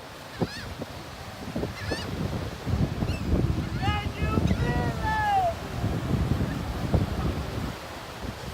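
Birds at a beach honk back in bursts, several overlapping calls close by amid wind and surf, with a voice and talk mixed in among the calls.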